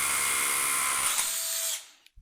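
A rotary hammer drill bores into dense high-strength concrete, giving a loud, close, steady high-pitched grinding whir for under two seconds before it stops abruptly, followed by a couple of faint knocks.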